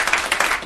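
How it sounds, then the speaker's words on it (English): A church congregation claps during a worship service, a short burst of several loud hand claps close by. "Give the Lord a big old hand clap."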